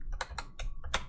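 Fingers type on a computer keyboard, five or six crisp key clicks in an uneven quick rhythm, close and alone with no talking.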